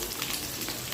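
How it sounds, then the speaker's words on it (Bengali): Carrots and vegetable stems fry in a pan with a brief, even, close sizzling hiss. "আপনারা শক্ত সবজিগুলো আগে একসাথে ভেজে নেবেন।"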